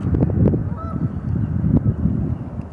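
Several Canada geese honk repeatedly nearby, their calls overlapping against a windy, rumbling background.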